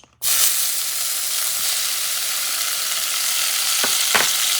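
Tomatoes hit hot, greasy chili fat in a pan for kangaroo chili, giving a steady, loud sizzle and fry that runs alone, with a couple of brief scraping stirs near the end.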